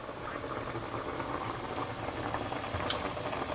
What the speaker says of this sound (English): now I'm just going to boil this down a little bit